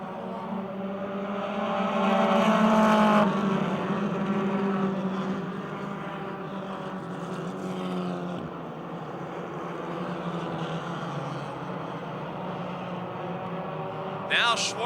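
Race cars roar around Motordrome Speedway, a loud sustained engine drone rising and falling as the field passes, under continuous race commentary.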